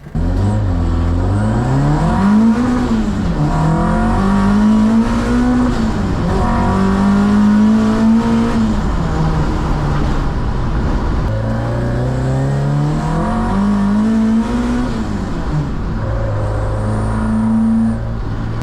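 A drag race car with a tired engine accelerates hard and loud throughout, its revs climbing and dropping repeatedly as it shifts up through the gears, including into fifth.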